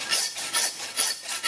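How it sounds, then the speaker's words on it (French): A saw rasps back and forth through a pig carcass in quick, regular strokes, about four close, harsh passes with brief pauses between them. "j'utilise la scie comme un bûcheron"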